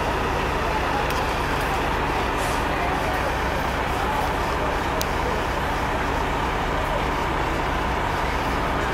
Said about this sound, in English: Here comes the late buses.